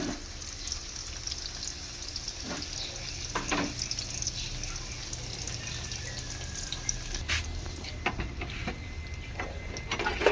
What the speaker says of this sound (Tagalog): Hintayin lang po natin siyang maluto yung tokwa